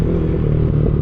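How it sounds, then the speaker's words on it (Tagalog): A Ducati Monster 1200R motorcycle runs loud and close with a dense, steady engine rumble as it shifts up into third gear. "Upshift, third gear."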